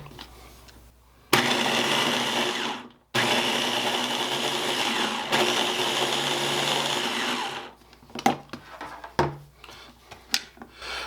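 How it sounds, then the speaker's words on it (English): A food processor shreds zucchini in two steady whirring bursts, close and fairly loud, followed by clattering and tapping as the bowl is handled. "we're just going to zap this until we get finely shredded zucchini"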